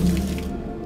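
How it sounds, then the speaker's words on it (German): Splashing water effect from a puzzle in a hidden-object adventure game, a short watery burst fading quickly. "Wasser."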